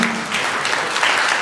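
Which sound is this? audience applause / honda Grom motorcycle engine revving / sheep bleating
audience applause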